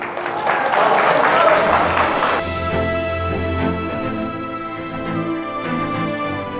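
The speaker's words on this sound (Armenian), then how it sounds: "մի հատ լավ ծափեր տվեք" Wedding guests applaud at a celebration, with loud, dense clapping for a couple of seconds that then thins into scattered claps over music and crowd murmur.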